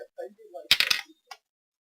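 Small dice clatter in a quick rattling burst with a last light click, after soft vocal sounds.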